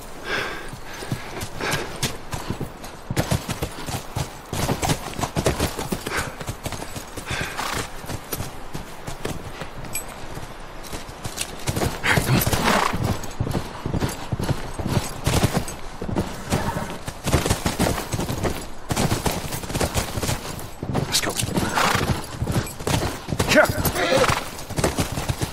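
Horses gallop in The Last of Us, a continuous rush of hoofbeats, rapid thudding clip-clops with occasional whinnies, while voices speak over the commotion.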